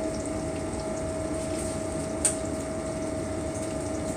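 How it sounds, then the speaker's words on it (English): Tap water runs steadily at a kitchen sink while hands are washed beneath it, a constant close rushing with a faint tonal hum and one brief light clink partway through. "Wash my hands."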